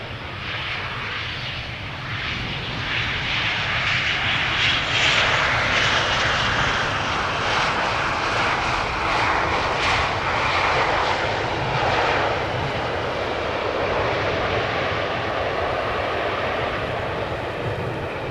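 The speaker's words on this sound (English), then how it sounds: "KLM flight 1930 behind it, arriving from Geneva." A KLM Boeing 737-700 airliner arriving at Amsterdam Schiphol from Geneva, its engine roar broad and sustained, swelling as it passes close and then holding steady, with no talk over it.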